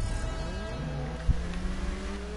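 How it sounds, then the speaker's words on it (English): A car engine in the racing game GTA 5 holds a steady, fairly loud drone, rising in pitch as it revs, with a brief thump partway through. "I like the way this car sounds, though."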